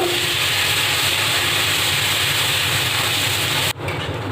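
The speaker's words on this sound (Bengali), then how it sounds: "এক চামচ মতো রসুন বাটা দিচ্ছি রসুনটাকে ভালো করে ভেজে নেব" Garlic paste frying in hot oil for a koi fish curry gives a loud, steady sizzling hiss that cuts off abruptly near the end, leaving a softer hiss.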